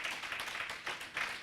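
Brief scattered clapping from a small community meet-and-greet audience honoring a police corporal, faint and a little uneven, with a few louder bursts.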